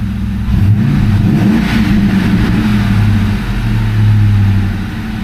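A 1999–2004 Ford Mustang engine idles loudly and close by with a fresh idle air control valve, its steady low rumble rising slightly in a gentle surge near the end.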